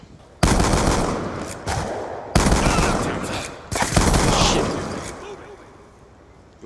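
Call of Duty Black Ops 2 gunfire on PS3, several loud bursts of rapid automatic shots separated by short pauses, one after another, with game sound continuing between them.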